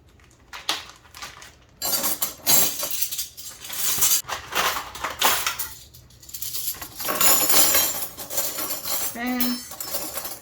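Spoons and other silverware being handled and sorted into a tote while organizing a kitchen drawer: loud, uneven metallic clinking and jangling in clustered bursts, with short quiet gaps between handfuls.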